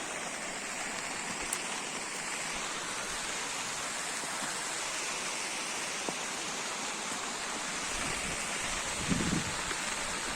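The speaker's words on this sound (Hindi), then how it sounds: "है बारिश।" Steady heavy summer rain in Pauri, a dense even hiss of falling water with mist over the hills at six in the morning, continuous and fairly close with no one talking.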